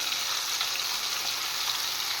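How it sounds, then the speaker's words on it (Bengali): Garlic, onion and dried chilli paste fries with vegetables in a pan, giving a steady, even hiss of sizzling oil that holds without pause at moderate level throughout. "এবার এই মশলার সাথে সবজিটা একটু কষিয়ে দেব।"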